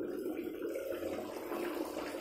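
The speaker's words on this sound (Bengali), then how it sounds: "এই দেখো, ফোটার আওয়াজ হচ্ছে কেমন" A pot of moong dal cooked with a fish head boils on a raised flame, producing a faint, steady low bubbling that continues without a break.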